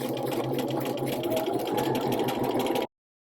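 A sewing machine runs at a steady, even pace, sewing a rolled hem with a narrow hemmer foot. The whirring continues close and loud for almost three seconds, then stops abruptly.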